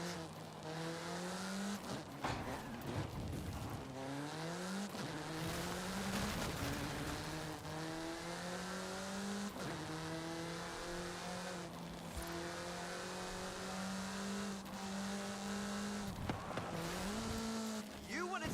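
A car in the Forza Horizon 5 racing game accelerates steadily, its engine pitch climbing through repeated gear shifts over a continuous drone, with a voice speaking over it at times.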